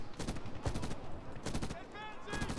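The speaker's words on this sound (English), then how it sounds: "make sure you keep putting enough bullets on the MG nest" Sustained gunfire from a squad suppressing a machine-gun nest in Medal of Honor, several bursts of rapid shots in uneven clusters, fairly close and loud against the battle din.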